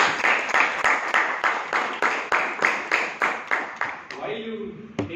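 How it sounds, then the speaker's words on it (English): A small audience at a Toastmasters club meeting claps in a steady, rhythmic pulse for several seconds before it fades and a voice begins speaking. "Can we have a round of applause to all the role takers?"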